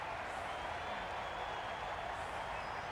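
Dense crowd roar fills a cricket stadium at an IPL match between RR and RCB after a big hit, a steady, continuous wall of cheering noise with no clear breaks.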